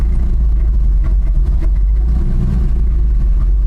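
A 1989 GMC Sierra 3500 engine idles steadily and close by, a loud continuous low rumble with slight unevenness and no voices over it.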